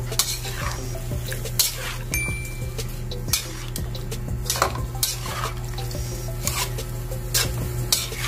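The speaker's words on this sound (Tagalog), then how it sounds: "Mix lang nating mabuti para manuot yung ating iginisa kanina sa ating sayote." Sautéed chayote with chicken is stirred in a pan, with a continuous rhythm of spatula scrapes and metallic clinks over a low, steady hum.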